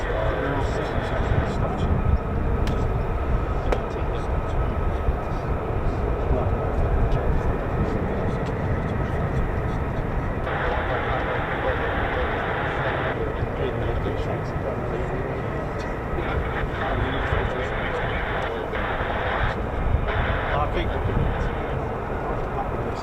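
F-15 and F-35 fighter jets taxi across a runway at an air force base, a continuous loud jet-engine roar and whine from nearby, with a voice talking over it.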